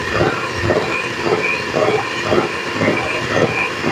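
An electric mixer runs at medium-to-high speed, whipping a homemade cotton candy ice cream base into foam. A loud, continuous motor whir carries a regular pulsing rhythm from the beaters churning in the bowl.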